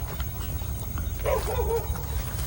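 A dog barks briefly at a distance, sounding faint and short over a steady low rumble of background noise near a reputedly haunted house.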